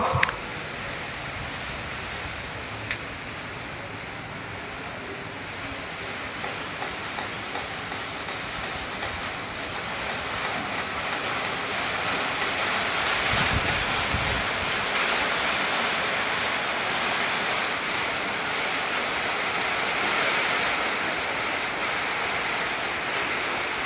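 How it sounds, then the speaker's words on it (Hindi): Monsoon rain falls steadily outside in a village, making a broad, constant hiss that holds for the whole stretch with no voices. "ये देखिए बारिश हो रही है अभी भी"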